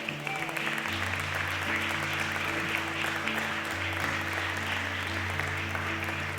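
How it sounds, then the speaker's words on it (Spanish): Congregation applauding during a church sermon, steady continuous clapping from a crowd at moderate distance, with sustained low instrumental tones beneath it. "Dele una ofrenda de palmas al Señor."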